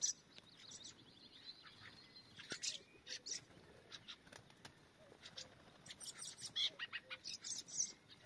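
Young thrushes learning to feed themselves give scattered, high, faint chirps and tweets outdoors, in short clusters over a quiet background.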